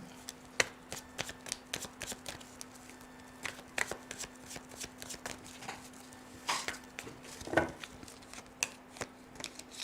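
Tarot cards being shuffled and riffled in repeated quick bursts, crisp flicks and snaps close by, with faint background hum and no talking.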